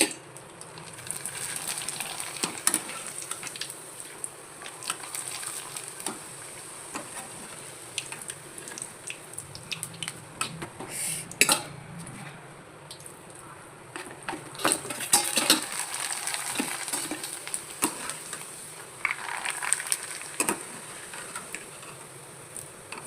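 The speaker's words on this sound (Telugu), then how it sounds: "దీని కాంబినేషన్గా నేను పక్కన అప్పడాలు అయితే వేస్తున్నాను" Papads (appalam) fry in a pan as a side for pappu charu. A soft background sizzle runs under scattered sharp clinks and scrapes of utensils against the pan, with bursts of livelier crackle and no voices.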